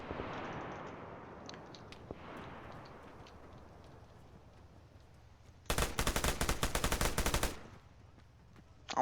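A long burst of rapid automatic gunfire in the military shooter Arma, loud and close, rattling for almost two seconds after a stretch of quiet background noise with faint distant cracks.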